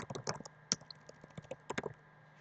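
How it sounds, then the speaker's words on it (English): Rapid, uneven keystrokes on a computer keyboard while coding a Google Sheets API script, close and fairly quiet, with irregular clusters of clicks and brief pauses between bursts. "I'm typing and you guys can't even see what I'm doing"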